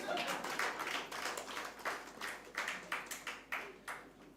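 An audience claps together at a Kannada–Chhattisgarhi cultural gathering, a run of sharp, fairly close bursts with uneven rhythm that stays steady for about four seconds, with a brief voice in the background.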